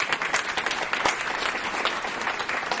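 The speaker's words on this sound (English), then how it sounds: "round of applause for Brian and his team for the wonderful food." A lunch audience at a consumer privacy talk gives a sustained round of applause for the catering team, dense steady clapping filling the room with no voices over it.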